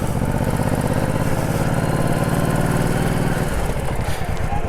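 A Honda Shadow 1100 motorcycle cruises along with a loud, close, steady engine drone and wind rush, the pitch easing slightly near the end, with a voice faintly under it.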